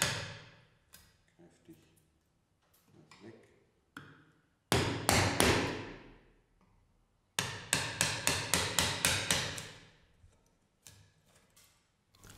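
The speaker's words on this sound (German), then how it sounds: "Dazu wird zuerst 1 bis 2 mm vom Riss entfernt, ca. 5 mm tief eingestemmt." Sharp mallet blows on a chisel chopping a mortise into wood, struck in quick bursts of evenly spaced knocks, each ringing briefly and fading, with a couple of quieter taps between the loud runs and no talking.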